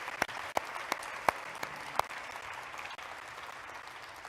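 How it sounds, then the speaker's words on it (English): Audience applause at an NHS England event, steady dense clapping from a room full of people, with a few sharper nearby claps standing out, continuing throughout at moderate level. "I think that deserves a huge round of applause again for Jane, Sam and Teresa."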